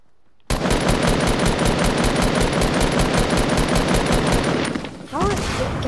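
Sustained automatic gunfire in Fortnite, loud rapid bursts of shots running nearly continuously for several seconds, then breaking off briefly before resuming with a faint voice underneath.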